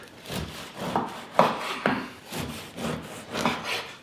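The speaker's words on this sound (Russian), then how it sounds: "Осталось только нарезать хлеб." Bread being sliced with a knife while preparing a meal, giving a run of rhythmic rasping saw strokes, about seven across a few seconds, close and fairly quiet with no talk.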